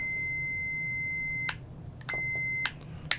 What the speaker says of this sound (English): We'll even give you a beep.